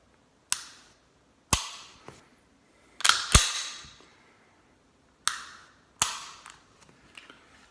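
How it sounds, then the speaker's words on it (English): Sharp dry trigger clicks from a Sig P365 subcompact 10-round pistol, about seven crisp snaps close up, some in quick pairs with brief metallic ring, separated by silence. "It is a very positive audible reset."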